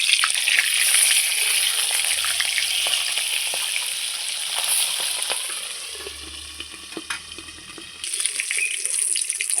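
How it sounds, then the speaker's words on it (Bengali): Tangra fish fry in a pan with a bright, continuous sizzle and scattered crackles up close, the hiss briefly dropping near the end before resuming, with no voices. "আমার ট্যাংরা মাছটা ভাজা হয়ে গেছে"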